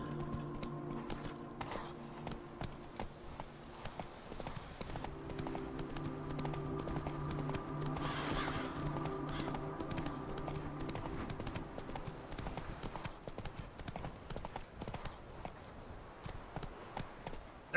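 Roach the horse's hoofbeats in The Witcher 3, a steady rhythmic clip-clop of hooves at a walking-to-trotting pace over a low musical drone, moderately close and unbroken.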